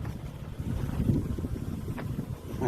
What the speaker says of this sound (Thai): เพราะว่าลมเนี่ยพัดมาทางนี้นะฮะลมเหนือนะฮะ